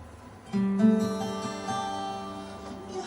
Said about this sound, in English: it's a parlour guitar, and it's high strung, so it sounds like this.